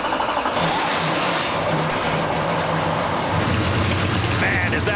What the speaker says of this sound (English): the jets, and now the motor's running as the entire field comes to life on the front straightaway